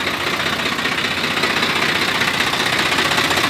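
A Swaraj 744 FE tractor idles nearby, its diesel engine giving a steady, even rumble with a fine rhythmic knock that holds at a constant level throughout.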